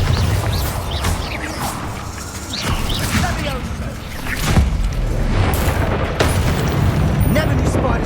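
Spell combat in the Hogwarts Legacy video game, including the Bombarda explosion spell, with booming blasts and crackling impacts scattered across the clip alongside whooshing effects and game voices speaking.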